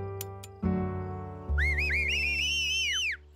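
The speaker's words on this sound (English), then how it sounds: "It's the super whistle that rocks." Someone whistles a warbling, sliding tune, the super whistle, lasting about a second and a half over a steady low background drone, loud and close.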